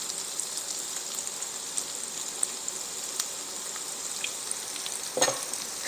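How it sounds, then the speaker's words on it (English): Corn sizzles steadily in a hot pan with butter and heavy cream, a constant crackling fry with occasional soft scrapes as it is stirred, close and alone without voices. "Stir that up, let that butter melt"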